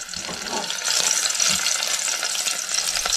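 Garlic dropped into hot oil in a pressure cooker, producing a bright, close sizzle and spatter that swells and stays steady, without speech.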